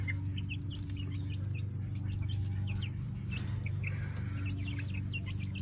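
Chickens cluck and chirp in scattered bursts over a steady low hum, close and fairly loud.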